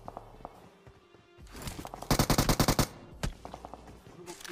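Machine gun fire in PUBG Mobile: a tight, rapid burst of about nine loud shots, followed by a single later shot, over quieter game noise and scattered footsteps.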